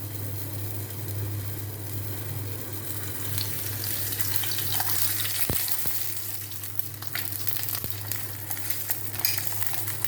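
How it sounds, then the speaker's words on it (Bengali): Parathas fry in ghee on a pan, giving a continuous, even sizzle and hiss over a low steady hum, with a few faint knocks; no one speaks. "একটু ঘি দিয়ে খেতে পছন্দ করে মেয়ে, তাই ঘিয়েই ভাজি বেশিরভাগ সময়"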